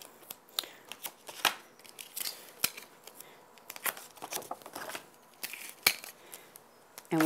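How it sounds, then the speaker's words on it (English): Double-sided tape worked around the edge of a handmade card: close papery crinkling, peeling and tearing sounds in irregular bursts with quiet gaps, no voices. "I'm going to use some of my double-sided tape and I'll just work it around the edge here."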